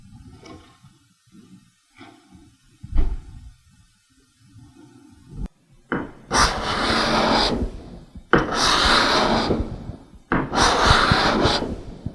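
A steel card scraper draws across a wooden workpiece held in cam-style clamps, giving three long, fairly loud rasping strokes near the end after a quieter stretch of small handling knocks.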